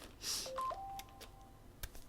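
Faint, brief electronic phone notification tones, a few short beeps in quick succession, sound in a quiet room at home, with soft tapping around them.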